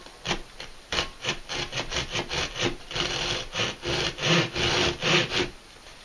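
A hand saw cuts through store-bought wood in steady back-and-forth strokes, about twenty rasping passes that grow slightly louder, close up and alone with no voices.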